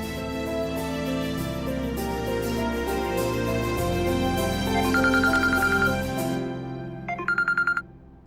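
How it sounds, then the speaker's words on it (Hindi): A mobile phone ringtone for an incoming call comes in over background music in an Indian TV drama scene, with a repeating bright melodic tone that pulses in short bursts near the end. "दादी का फोन आ रहा है जगराते के लिए"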